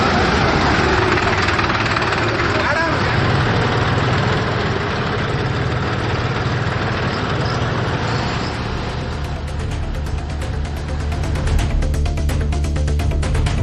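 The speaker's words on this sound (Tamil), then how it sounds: "43 டிராக்டர்களில் புதிய பேருந்து நிலையம் முதல் பூங்கா சாலை வரை சுமார் 6 கிலோமீட்டர் தூரத்திற்கு இந்த பேரணி நடத்தப்பட்டது." Engines of tractors in a rally of 43 tractors along a town road, a loud, steady low idling rumble and vibration persisting throughout, nearby and continuous with no speech.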